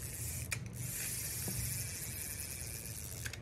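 A Ryobi Cynos XS700ZM spinning fishing reel with a graphite spool is cranked by hand, giving a soft, steady whirring and faint clicking. It is quiet and close, with no voices.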